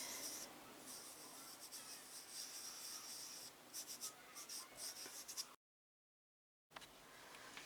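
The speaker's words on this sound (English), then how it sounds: "I'm really enjoying putting the pastel on the paper." A soft pastel stick rubbing and scratching across paper, a steady close, gritty scraping that runs continuously, breaks off into silence for about a second near the end, then resumes.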